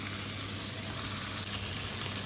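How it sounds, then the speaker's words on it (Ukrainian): Steady, dense sizzling of fish frying in a pan over low heat, a continuous crackling hiss at close range with no talking. "І смажити її на легкому вогні, постійно перевертаючи близько 15 хвилин"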